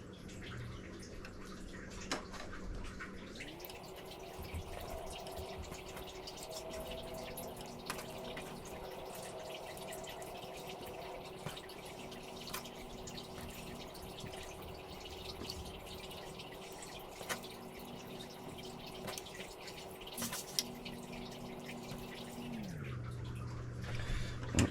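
Salted raw rockfish fries slowly in a hot pan for curry, giving a steady, even sizzle over a low hum that runs without a break for about twenty seconds.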